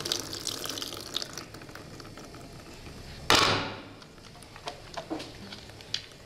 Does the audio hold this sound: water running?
yes